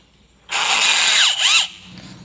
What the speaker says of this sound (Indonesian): Namun yang pertama kita akan gunakan dulu mata bor yang biasa